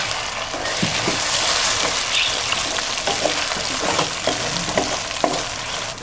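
Ginger and garlic sizzle in hot oil with browned onions in a home kitchen pan, a steady bright frying hiss broken by occasional stirring scrapes, close and continuous.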